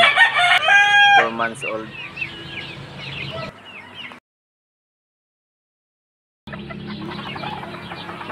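Four-month-old backyard gamefowl crow and cluck loudly up close, with talk over the birds, a silent gap in the middle, then more clucking and bird noise.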